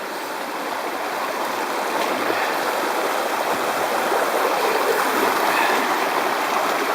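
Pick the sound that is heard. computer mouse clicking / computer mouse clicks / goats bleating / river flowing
river flowing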